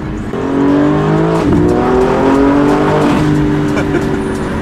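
A single-turbo Infiniti G37 engine revs hard and climbs in pitch as it accelerates, loud and close, with a brief tire chirp partway through.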